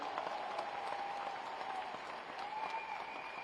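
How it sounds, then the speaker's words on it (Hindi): Listeners at a Hindi kavi sammelan poetry gathering break into loud, continuous applause after a sung poem is recited, a steady roar of many hands with a faint sustained tone running through it. "आपको गीत कैसा लगा एक बार मुझे बता दीजिए जोरदार से तालियों"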